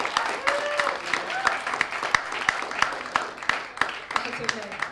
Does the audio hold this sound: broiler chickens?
no